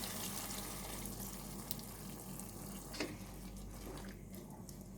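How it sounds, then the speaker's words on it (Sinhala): Thick coconut milk is poured into a cauliflower curry simmering in a pan. A faint, steady watery hiss and soft sizzle carry on without a break, with a couple of small splashy bumps. "දැන් අපි මේ වෙලාවේ අපේ උකු පොල් කිරි ටික මේකට එකතු කරගමු."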